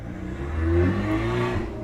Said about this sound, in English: there's like some crazy man in a crazy loud car inside my house